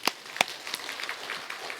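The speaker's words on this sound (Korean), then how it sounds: "박수 한번 쳐주세요" A church congregation claps briefly during a sermon, a few sharp claps at first and then a soft, scattered patter that stays quiet and somewhat distant.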